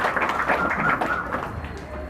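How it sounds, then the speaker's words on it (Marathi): An audience at a Marathi talk on parenting claps. The applause is dense and close, and a voice is heard over it. "त्याच्यासाठी टाळ्या."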